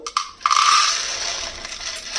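Green peas are poured into a measuring cup in a kitchen: a couple of sharp clicks, then a close, dry rattling patter that lasts about a second and a half before fading.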